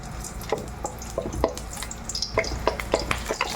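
Garlic hits hot oil in a heated pan and sizzles quietly, with scattered clicks and stirring scrapes in a close, steady crackle and no talking.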